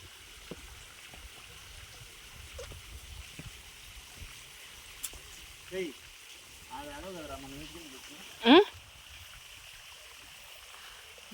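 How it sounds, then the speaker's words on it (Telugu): A small waterfall stream at Kethanahalli makes a faint, steady watery hiss throughout, with a few brief chirping calls and a sharper sound near the end. "అరే ఇక్కడ చిన్న వాటర్ ఫాల్ ఉందిరా."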